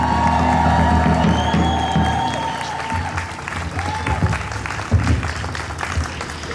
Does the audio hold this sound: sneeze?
no